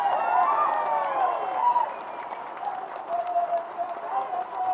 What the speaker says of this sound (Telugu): ఒకసారి గట్టిగా చప్పట్లతో వారికి మనందరం అభినందనలు చెప్పాలి.